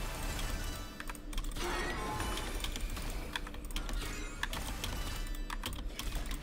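Steady, dense keyboard typing during a League of Legends ARAM session, rapid key clicks and clacks running continuously and close, with no talking.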